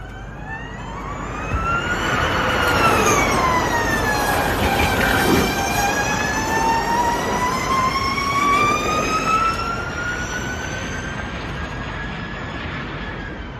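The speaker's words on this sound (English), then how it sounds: "That was the sound of a prototype Ford Mustang Mach-E 1400, a car that they have no intention of actually putting into production" A prototype Ford Mustang Mach-E 1400 electric car drives on a road course, its loud electric motor whine sweeping up and down in pitch over a roar of road noise for the whole stretch, with no talking.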